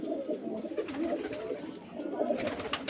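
Pigeons offered for sale at a pigeon market in Beldanga, Murshidabad, coo in low, rolling, overlapping calls, close and steady throughout with no voices.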